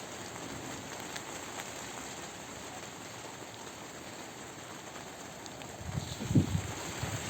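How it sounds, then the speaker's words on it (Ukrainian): Steady rain patters on surfaces all around, a constant soft hiss with a few louder splashes and knocks toward the end. "Дощ розпочався."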